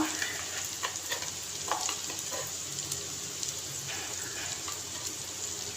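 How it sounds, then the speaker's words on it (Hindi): Mash daal sizzling in a hot pan while a utensil stirs and scrapes at irregular intervals, close and continuous. "तो इसको मैंने अच्छे से मिक्स कर देना है।"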